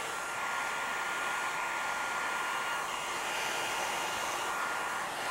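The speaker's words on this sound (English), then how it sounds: "out with the hairdryer, and be very careful of this" A hair dryer blows steadily at close range, a continuous airy whir with no breaks.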